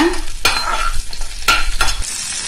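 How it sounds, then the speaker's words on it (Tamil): Amla and cut lemon sauté in a hot pan, sizzling steadily while a spoon stirs and scrapes through them in a few sharp, close strokes; nobody speaks. "இந்த நெல்லிக்காய போட்டுடலாம் அதுக்கடுத்து கட் பண்ணி வச்சிருக்க எலுமிச்சம்பழம் அப்படியே போட்டுடலாம் இதை ஃபர்ஸ்ட் கொஞ்ச நேரம் வதக்கலாங்க"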